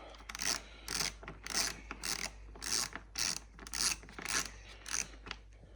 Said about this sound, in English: these are the other two bolts that need to come out now